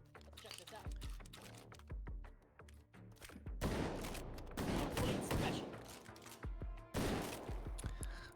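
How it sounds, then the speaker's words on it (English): Shotgun blasts at close range during melee combat in a first-person shooter against Sosig enemies, several sharp booming shots spread through busy game audio with steady clicking underneath. "Doing a little melee shotgun action there"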